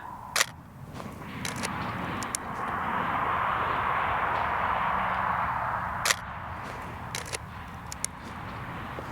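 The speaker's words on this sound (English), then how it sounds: "Okay, shot a couple 35 mil frames" A few sharp mechanical clicks of a 35mm film camera shutter firing frames outdoors, spaced irregularly over a soft, steady ambient hiss.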